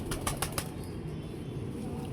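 A pigeon beats its wings in a quick run of sharp flaps near the start, then only a faint background hum remains.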